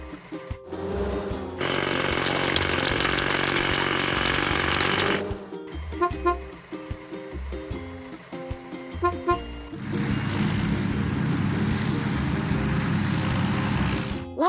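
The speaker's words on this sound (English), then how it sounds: "Hydraulic hammer." Hydraulic hammer attachment on a construction truck breaking big rocks in a kids' mobile truck game: a loud, steady rapid pounding in a long block, then game music with clanks, then a second heavy hammering burst.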